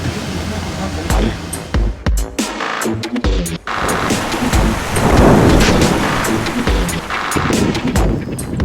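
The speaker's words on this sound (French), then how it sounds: "Il fait moche, il y a de la pluie." Heavy rain pours steadily with loud rumbling thunder rolling through, close and intense, and a few brief bursts of other noise.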